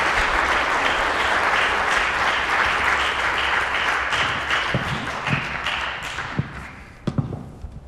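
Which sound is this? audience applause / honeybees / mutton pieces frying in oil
audience applause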